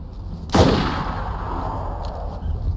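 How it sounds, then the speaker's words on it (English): A single loud gunshot cracks out early in a video game firefight, leaving a long decaying echo, followed by fainter, more distant shots and clatter in the background, with no talking. "We're getting shot at, hurry up."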